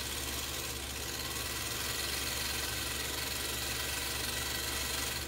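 Brother 190 Flairmatic sewing machine winding a bobbin, giving a steady, even motor hum with a faint mechanical whir that runs without a break from start to finish.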